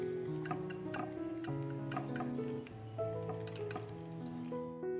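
Egg and maida batter whisked in a bowl for Malabar pal pathiri, with quick repeated clinks and taps of a utensil against the bowl. Light ringing tones carry throughout, and no one speaks.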